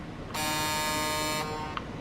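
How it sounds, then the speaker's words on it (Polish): A single sustained tractor horn blast in a farming video game, bright and buzzy, lasting about a second, followed by a brief short toot. "klakson"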